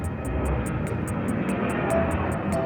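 An airplane passes overhead near Schiphol Airport in Amsterdam, a steady broadband engine roar that holds through the whole moment, with a regular high ticking pulse running alongside.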